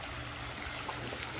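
Water runs steadily from a dolphin-shaped fountain at a seaside swimming spot, a soft continuous trickle and splash with broadband wash and no talk.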